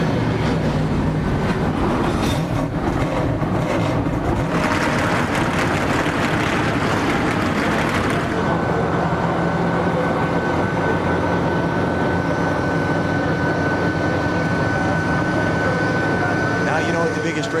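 A field of NASCAR Winston Cup stock cars fires up at New Hampshire International Speedway, a dense, loud, continuous engine roar under a commentator's voice.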